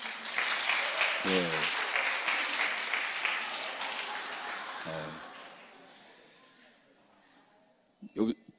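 A church congregation at a Friday prayer meeting claps in loud, dense applause that gradually fades to a faint patter, with a few brief voices and a sharp knock near the end.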